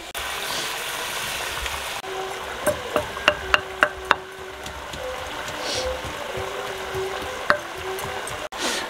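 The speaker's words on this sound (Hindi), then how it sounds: "दिल और गुर्दों को हम अच्छी तरीके से भून लेंगे" Beef heart and kidney fry in ghee over a village cooking fire, giving a steady close sizzle with a quick run of sharp stirring clicks partway through.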